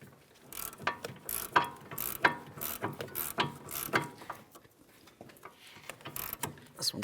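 Repeated ratchet clicking in short bursts while a sway bar link mounting nut is loosened on a Ford Fusion, close and clear, with brief pauses between strokes and no talking.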